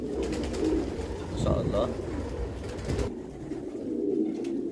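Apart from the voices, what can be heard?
pigeons and squabs cooing in a loft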